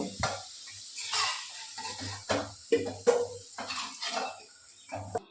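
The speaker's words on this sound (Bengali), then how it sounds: "আলুটা আমার ভাজা হয়ে গেছে দেখো সুন্দর লাল লাল হয়ে গেছে" Potatoes fry in oil in a pan with a soft sizzle broken by repeated scraping and stirring strokes and light utensil clinks, close by and fairly quiet.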